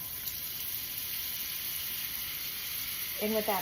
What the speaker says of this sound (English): So I'm going to put some butter, the leftover butter, in with that